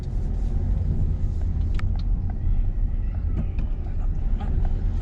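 A car during a driving lesson accelerates and shifts into second gear, a steady close engine rumble with road and cabin noise, no clear voice.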